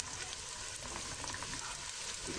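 Onions fry in a pan as they turn golden for Egyptian koshari, making a dense, continuous close sizzle without speech.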